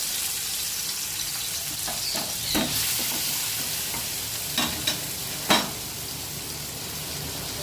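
Minced garlic and ginger fry in a pan of hot oil after fish has been fried, producing a continuous sizzle broken by several sharp spatula clinks and scrapes. No one speaks.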